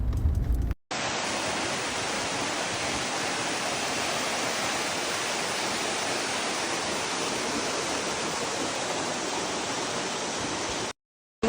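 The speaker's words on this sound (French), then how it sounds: "On va pouvoir se mettre sous la cascade et aller nager." A waterfall roars on a narrow trail outing, a dense, steady rush of falling water that stays loud and constant throughout, with no voices over it.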